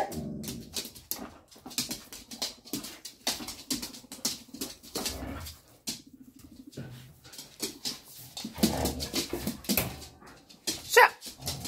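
Several dogs are given treats and respond with quick, repeated barks and excited whimpers and yelps, close and fairly loud in an irregular stream, with a few higher squeaks near the end.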